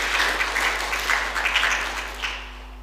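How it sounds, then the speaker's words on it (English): An audience at St Aidan's applauds a guest speaker with a warm round of clapping, a dense, even patter that gradually fades out. "please would you welcome her with a warm round of applause"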